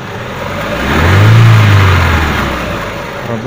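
A Daewoo Lanos 1.6 engine idles, then revs up in one smooth swell that peaks and eases back to a steady idle, loud and close with no talking.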